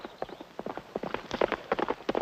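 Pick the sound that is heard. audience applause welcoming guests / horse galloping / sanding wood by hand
horse galloping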